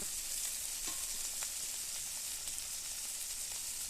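Paneer curry masala with poppy seed paste being sautéed in a pan: a faint, steady sizzle with light, sparse ticks from stirring, no voices.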